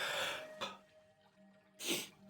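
A single close sneeze from a woman, a sharp breathy burst near the end, preceded by a fainter throat sound, in a quiet indoor setting.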